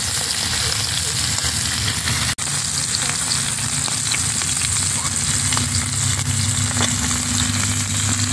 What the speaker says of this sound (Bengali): বাকি মাছগুলোকে ভেজে নেব।